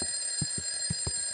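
Shrill, ear-splitting alarm clock ringing in a video game bedroom, a continuous high tone over a series of low rhythmic thuds, loud and close with no talk.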